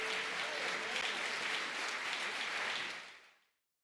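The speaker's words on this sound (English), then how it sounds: "Come on, let's applaud him once more." Crowd applause in the Tour de France 2026 video game, an even wash of clapping that holds steady, then fades out quickly to silence.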